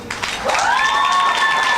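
An audience at a beauty pageant question-and-answer session applauds a contestant's answer, with a dense, steady wash of clapping that swells and holds and a bright sustained tone running over it.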